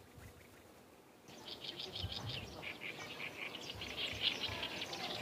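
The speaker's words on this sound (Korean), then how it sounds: "고요한 풍경 속에 새소리와 바람소리만이 잔잔하게 울려 퍼지는 화포천 습지." Birds chirp and call repeatedly over a soft wind at Hwapocheon, a riverine wetland in Gyeongnam. The calls are fairly clear and mid-distance, starting after a quiet opening and continuing steadily with no talk.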